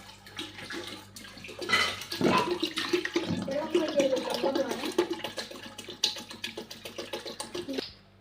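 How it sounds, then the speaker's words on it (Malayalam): Water poured into a cooking pan of stirred poppy-seed masala, a close splashing, gurgling fill that swells for several seconds and then tapers off, with a few clicks around it. "ഇനി നമ്മൾ ഇച്ചിരി വെള്ളം ഒഴിച്ചു കൊടുക്കാം."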